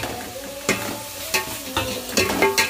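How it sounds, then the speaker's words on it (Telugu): Masala with chili powder, turmeric and rock salt frying in a pan for fish curry, a low sizzle broken by several sharp spoon scrapes and stirring knocks at irregular intervals. "మసాలా బాగా వేగింది కదా, కారం పసుపు కల్లుప్పు వేసుకున్నాం."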